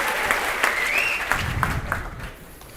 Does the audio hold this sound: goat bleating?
no